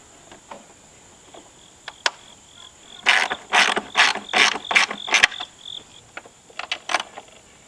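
A ratchet wrench tightens bolts on a solar array mount, a close run of about seven quick clicking strokes in the middle, with scattered lighter clicks and taps before and after over a faint steady insect-like whine.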